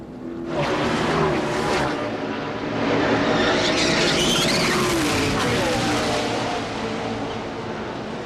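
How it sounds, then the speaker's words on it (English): Loud tires of NASCAR Craftsman Truck Series race trucks screech over roaring engines and crowd noise, a sustained skidding wail with a heavy crunching impact as metal hits the wall, under faint commentary. "when you hear the screeching and you hear the pounding of metal"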